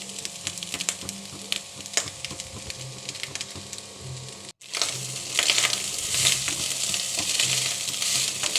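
Food seasoned with salt, sugar and pepper is stirred and fried in a pan: a continuous crackling sizzle with scraping strokes, a momentary dropout midway, then louder, busier frying.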